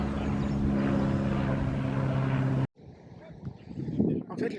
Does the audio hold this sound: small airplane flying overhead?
yes